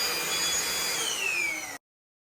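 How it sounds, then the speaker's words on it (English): A Gtech Pro 2 vacuum cleaner runs in eco mode with its brush bar spinning, giving a steady loud whirring drone with a slowly falling whine, then cutting off abruptly into silence. "So now we have the vacuum running in eco mode, picking up porridge oats, rice, and peppercorns."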